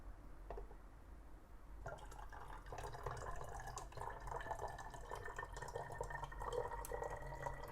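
Water poured onto an industrial capacitive sensor with a high IP rating, heard as a faint steady trickling and splashing that starts abruptly and continues, soft and close.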